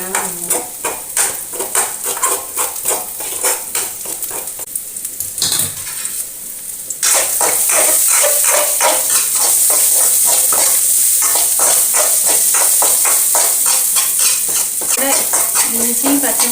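Ginger, green chili and onion fry in a pan with steady sizzling and repeated scraping, stirring strokes of a utensil, close and loud, with a brief quieter gap before the sizzle swells fuller.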